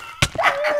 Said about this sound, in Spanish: Eso es un perro.